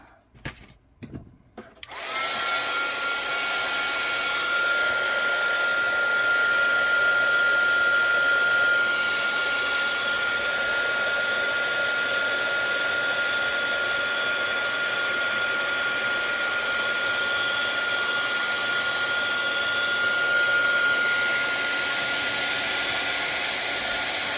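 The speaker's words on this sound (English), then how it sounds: "we will give this a quick shot with the heat tool" A heat tool melts embossing powder on a Stampin' Up! papercraft card, giving a loud, steady blowing whoosh with a thin whine. It runs continuously for over twenty seconds after a few brief handling knocks at the start.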